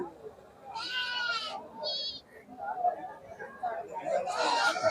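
Goats bleat at a busy livestock market in Ayyalur, Dindigul, with two or three short wavering calls standing out over a background of crowd chatter and nearby voices.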